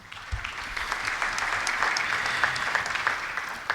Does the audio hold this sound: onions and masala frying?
no